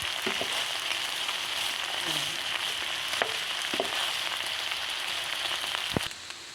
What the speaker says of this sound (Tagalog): Haluin natin ng dahan-dahan